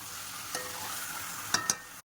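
Marinated chicken with spices sizzles steadily in a pan during sautéing, a close hiss punctuated by a few sharp scraping stirs before the sound cuts off.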